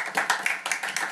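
Audience applause at a live stand-up comedy show in Prague, a short burst of dense crowd clapping with uneven swells, close and fairly loud, with no voices over it.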